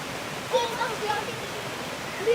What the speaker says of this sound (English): Let's enjoy the sound of the river.